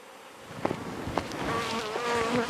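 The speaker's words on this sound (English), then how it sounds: "Was that a bee?" A bee buzzes close by, its drone rising and falling in pitch as it circles, with a couple of brief louder passes.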